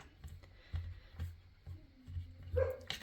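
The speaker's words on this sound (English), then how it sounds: "And there's our dogs." Dogs bark in short repeated bursts, somewhat distant and faint, in a quiet house at night while polymer clay is being cut.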